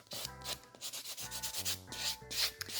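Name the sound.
white buffing block buffing over nail tips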